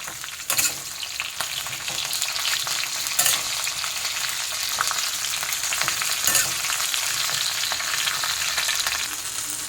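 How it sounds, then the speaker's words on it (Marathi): Green chillies sauté in hot oil in a pan, loud and close, a continuous crackling sizzle broken by occasional stirring scrapes, with no talk. "आपल्याला ह्या मिरच्या टाकायच्या आहे चांगलं तेल चांगल्या तेल असं परतून घ्यायचं"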